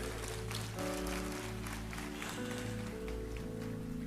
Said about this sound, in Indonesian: Tepuk tangannya yang lebih meriah.